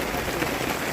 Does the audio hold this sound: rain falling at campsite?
yes